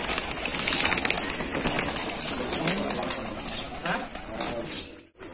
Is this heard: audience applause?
no